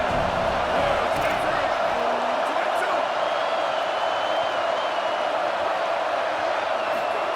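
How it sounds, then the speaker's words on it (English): Steady roar of a home stadium crowd in a college football video game, dense and continuous with no breaks, with commentary voices talking over it. "how nice is it to have the home crowd going absolutely bananas?"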